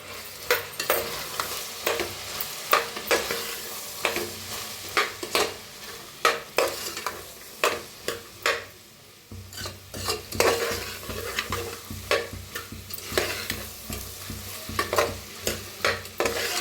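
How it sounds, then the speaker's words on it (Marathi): Tomatoes and chilli are stirred into frying aloo matar masala, the spoon scraping the pan in repeated close strokes over a steady sizzle, with no talking. "आता ह्याच्यातच टाकूया टमाटर बी आणि मिक्स करूया।"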